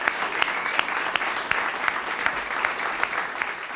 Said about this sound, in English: we'll applaud them anyway in their absence